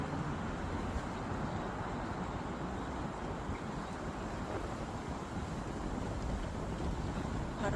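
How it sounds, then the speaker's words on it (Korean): Strong winter wind roars steadily over open water, a constant broad rushing gust that buffets close and loud for the whole stretch, with no other sounds standing out. "바람이 많이 부는데."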